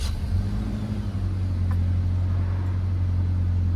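A car engine idles steadily just after repair work: a smooth, continuous low hum with a faint rhythmic rumble, close by and unchanging, with no voices.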